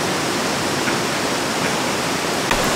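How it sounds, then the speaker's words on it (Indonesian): River water flows steadily beside a riverside campsite, a loud, continuous rushing wash that fills the whole moment without a break, with no voices over it. "beda lah kan dengan suara air"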